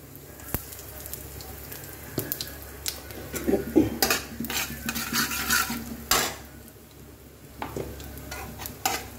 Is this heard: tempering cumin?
yes